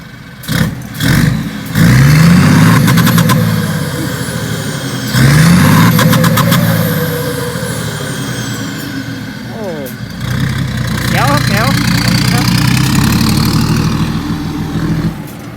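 A modified cement mixer truck with a loud tuned exhaust idles and then revs hard twice, each burst of engine roar swelling and falling back, followed by steady idling and a lighter blip, close and loud with voices talking over it.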